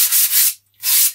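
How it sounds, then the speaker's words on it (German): Coarse sandpaper rubbed over the underside of an F3K hand-launch glider wing core, close and loud, in two long raspy strokes split by a short silent pause. "Ich schleife immer zuerst die Unterseite. Das geht relativ flott mit dem groben Papier."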